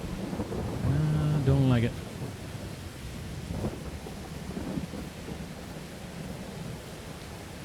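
Steady rain with low rumbles of thunder in Farming Simulator 22, a continuous wash of noise under a brief spoken comment and faint game sounds.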